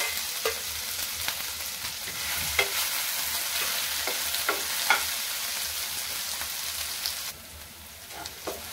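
A ground spice paste sizzles in hot oil in a pan for fish kheema, a steady bright hiss with occasional spatula scrapes and pops, close by and continuous, easing slightly near the end.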